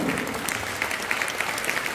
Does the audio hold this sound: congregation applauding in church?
yes